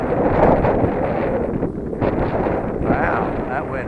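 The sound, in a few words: strong wind blowing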